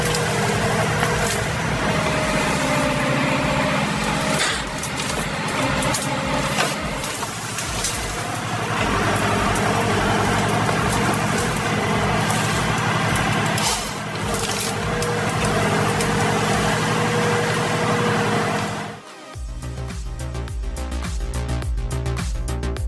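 Heavy logging truck engine running loud and steady close by, a dense throbbing rumble that dips briefly near the end before settling into a rougher idle.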